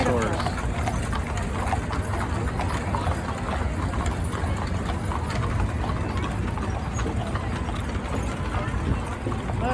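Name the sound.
horse trotting hooves at a mule day parade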